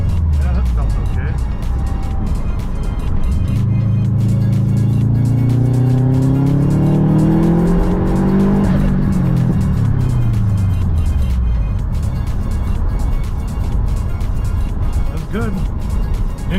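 Subaru engine pulling hard in second gear, revs climbing in a rising drone that peaks then falls back, loud and close from inside the car with road and tire noise beneath.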